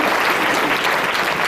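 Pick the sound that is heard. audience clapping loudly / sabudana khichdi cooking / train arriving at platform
audience clapping loudly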